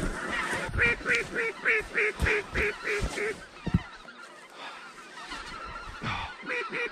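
A flock of snow geese honks in a rapid run of repeated calls, fairly close, with scattered thumps and a few more honks after a short lull during a hunt.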